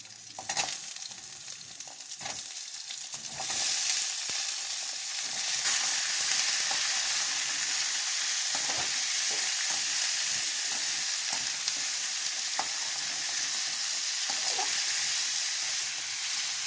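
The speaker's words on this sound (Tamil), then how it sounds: "காய் போட்டு நல்லா அப்படியே வதக்கணுங்க." Pumpkin pieces and onions sauté in a hot pan with a loud, steady, close sizzle, along with scattered scraping and stirring taps, and the frying grows louder after a few seconds.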